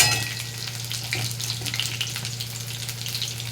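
Batter-coated ridge gourd slices frying in hot oil give a steady, close sizzle with light bubbling crackle throughout and occasional stirring.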